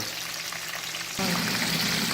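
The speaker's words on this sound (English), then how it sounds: "you let the oxtail fry for about a minute, minute and a half on each side" Oxtail sizzles steadily in hot oil in a pan, a dense crackling hiss that grows louder partway through as more pieces hit the pan.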